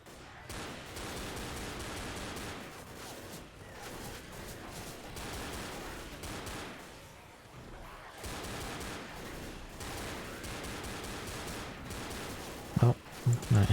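Video game gunfire during a rainy co-op match: continuous loud bursts of rapid shooting layered with overlapping shots and effects, a brief lull midway, then a few heavier impacts near the end.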